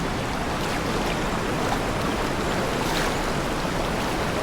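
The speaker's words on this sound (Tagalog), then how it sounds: "pangalawang ilog itong tatawiran natin ngayon" A river being waded across on a hike to a waterfall runs with a steady, broad rush of flowing water, moderately loud and unbroken throughout, with no voices.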